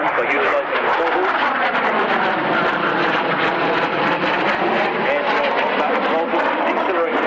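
A GR7 jet making a high-speed run at an airshow gives a steady, loud roaring engine wash throughout, with an announcer talking over it.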